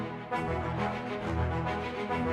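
Short, clipped orchestral string notes and trombones play together in slightly different rhythms, forming a full, steady ensemble texture.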